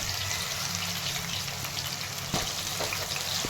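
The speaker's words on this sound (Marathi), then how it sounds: "तेलात टाकलेले आहेत तळायला" Banana chips frying in hot oil: a dense, continuous crackling sizzle, close and steady, with a small clink near the end and no talk.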